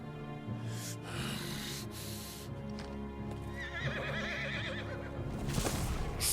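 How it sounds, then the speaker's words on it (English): A six-legged horse in Final Fantasy XVI whinnies with a wavering, shaky neigh, mixed with clip-clopping hooves, snorts and game music, fairly loud and close. "The six-legged horses is awesome. Such a cool design."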